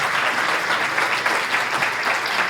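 Loud, steady applause fills the room after a talk at an investor and fundraising event in Ecuador, dense clapping carried evenly from start to finish with no voices on top.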